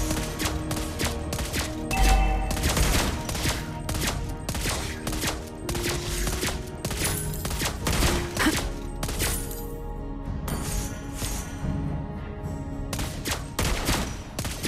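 Rapid gunfire bursts from a Mobile Legends: Bang Bang match, dense repeated shots with crashing impacts over game music, loud and continuous throughout.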